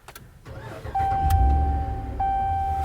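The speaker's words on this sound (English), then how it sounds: "I'm about to fire it up and see if everything went well with the battery installation." A Ram 1500 pickup starts up after a new battery is fitted: a steady electronic chime tone sounds, then the engine cranks and settles into a low, close rumbling idle.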